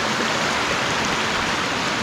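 A waterfall in the middle of rural countryside, heard from near its top as a steady, loud rush of water that fills the whole stretch without a break or any voices.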